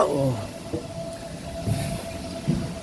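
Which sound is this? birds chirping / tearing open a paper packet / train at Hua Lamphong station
train at Hua Lamphong station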